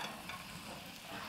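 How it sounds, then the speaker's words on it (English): Okonomiyaki fries on a hot griddle with a continuous hissing sizzle that stays steady and fairly close throughout the short stretch. "I want everybody to hear the sound, the sizzling sound actually."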